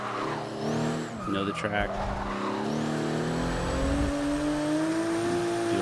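A Ferrari 250 California in Forza 6 revving and accelerating on track, engine note climbing steadily with brief tire squeal, heard under someone talking.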